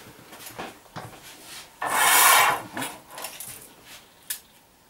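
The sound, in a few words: cutting tile with a Rubi tile cutter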